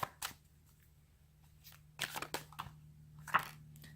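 Brand-new tarot cards being shuffled by hand, giving a few soft riffling bursts with quiet pauses between them, close and fairly faint over a low steady hum.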